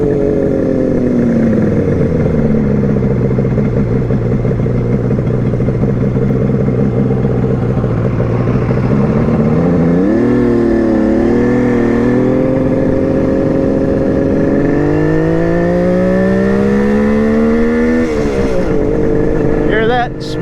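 A carbureted motorcycle idles after a single-kick cold start, running smooth and steady without misfire, its pitch dipping and rising as the throttle is blipped open a couple of times, close and loud throughout.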